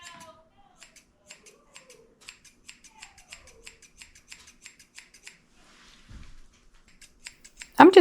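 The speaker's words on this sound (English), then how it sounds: "I'm just trying to blend in his ears with my thinning shears to make it look more natural." Thinning shears trim a Maltese dog's ear fur, a quick series of light, crisp snips at an irregular rhythm close by, with brief faint rustles between them.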